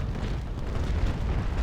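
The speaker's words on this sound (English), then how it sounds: "He is firing some cannons." A sailing ship fires its cannons in the naval battle game Naval Action, producing a continuous low, rumbling barrage of booming blasts without talking.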